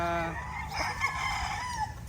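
A rooster crows once nearby, a loud, drawn-out call over faint background clucking.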